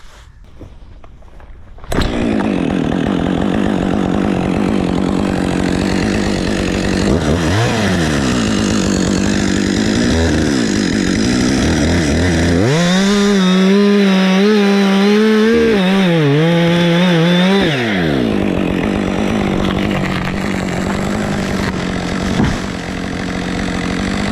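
A chainsaw bites through a small piece of tension timber on a dying ash tree being felled. After a quiet start the motor runs loud and near, its pitch bogging and rising as the chain works through the wood.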